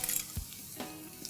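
Bay leaf, cinnamon and black peppercorns crackle in hot oil as a faint, steady sizzle with a few soft pops and scrapes, short and quiet.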